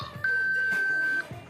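A single steady electronic beep from reading glasses with a built-in camera, a clear tone held for about a second, preceded and followed by brief quiet room sounds.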